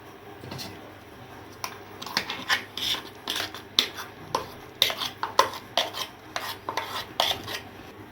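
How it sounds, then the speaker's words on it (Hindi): Ground lentil paste for dahi vada is scraped and moved into another vessel, giving a run of sharp metallic clinks and scrapes of a spoon against pots at an uneven rhythm, close and fairly clear. "अभी दूसरे बर्तन में इसको शिफ्ट कर लेती हूँगी।"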